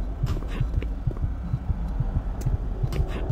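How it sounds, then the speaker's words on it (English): A rhythmic heartbeat thuds in the video game Doom 3, a steady lub-dub pulse repeating at a moderate pace under faint game ambience, without speech. "Why is my heart beating?"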